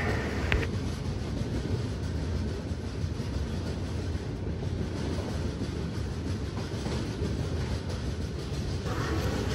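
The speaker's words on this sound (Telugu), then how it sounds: "బ్యూటిఫుల్ టనెల్లోకి ఎంటర్ అవుతున్నాం." The Kondaveedu Express passenger train rumbles steadily while entering a tunnel, a dense continuous roar of wheels and carriage noise with faint rhythmic clatter, heard from inside the train without talk.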